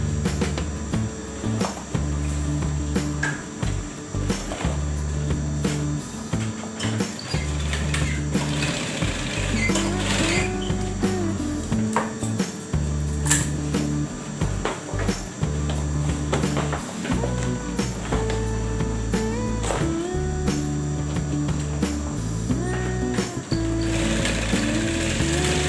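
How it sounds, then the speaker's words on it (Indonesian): Sewing machine stitching bean bag fabric, running in long steady bursts with brief pauses between seams, loud and close under a mechanical clatter. "Kita jahit di ujung sini kira-kira"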